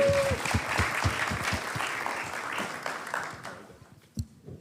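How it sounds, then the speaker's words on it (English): Applause at a university Umoja celebration as award presenters return to the stage, a crowd clapping loudly at first, then thinning and fading out over a few seconds. "Please give them a round of applause."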